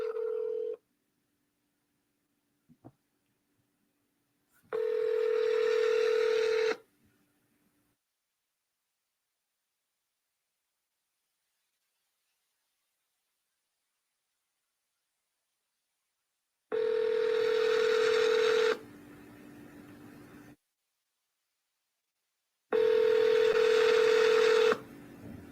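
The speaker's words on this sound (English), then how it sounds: "I'm going to call area code 228." Telephone tones during a call to area code 228: a steady tone in bursts, a brief click, then longer stretches of tone separated by silence, loud and clear with no talk.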